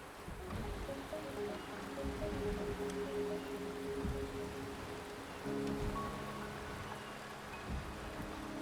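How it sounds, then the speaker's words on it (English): Steady rain pours down in the Wuthering Waves game world, a constant soft hiss of drops with low water-like rumbling beneath, lasting throughout with faint tonal game ambience layered in. "The rain is subsiding, and the sky will soon clear"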